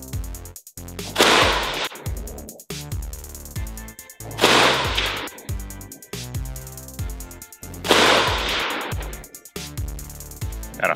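Polish Beryl 5.56 AK-74 rifle firing, three loud, sharp shots spaced evenly a few seconds apart, each followed by a ringing outdoor echo in the countryside.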